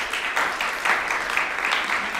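Audience applause following a performance at a music scholars masterclass, steady, dense clapping filling the room for a couple of seconds without a break.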